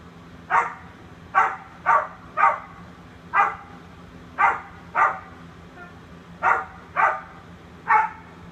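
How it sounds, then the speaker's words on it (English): A dog barks repeatedly inside an apartment building, about ten sharp single barks spaced irregularly, moderately distant and muffled through walls over a low steady room hum, with no talking. "Who has a dog in my building?"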